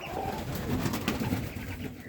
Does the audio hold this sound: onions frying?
no